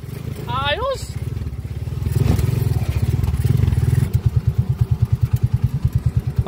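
A 200cc motorcycle with a sidecar and a racing CDI revs roughly, then settles into a loud, pulsing idle with a fast, even thump. A brief voice is heard near the start.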